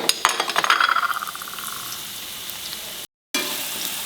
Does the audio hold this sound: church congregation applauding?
no